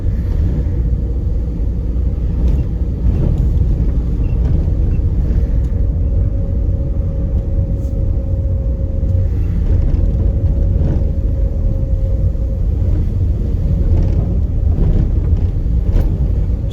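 A car cruises along sunny late-afternoon B roads in Surrey, heard from inside the cabin: a steady, unbroken low engine and road rumble with no voices.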